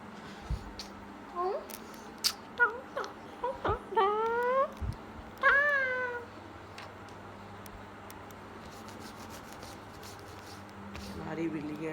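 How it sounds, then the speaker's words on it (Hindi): A pet cat named Coco meows several times in short, rising cries indoors, fairly close, followed by a quieter room background with faint talk. "ओह, बिल्ली आ गई."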